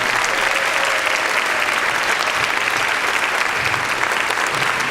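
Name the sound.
audience applause for performers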